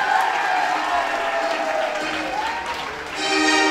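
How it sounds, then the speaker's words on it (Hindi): Audience applause at a Teachers' Day event at a coaching class, broad clapping mixed with crowd noise and some voices, fairly loud and steady, with a brief tonal sound entering near the end. "एक बार पूरा जोरदार तालियों से स्वागत करें तालियों में कंजूसी ना करें"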